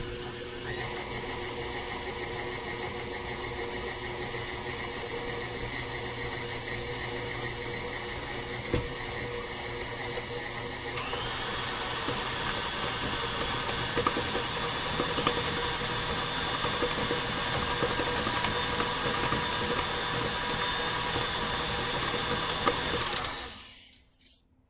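A stand mixer whips buttercream frosting made with heavy cream, giving a steady, close, high-pitched motor whine that rises slightly in pitch partway through and runs nearly the whole time before stopping abruptly at the end.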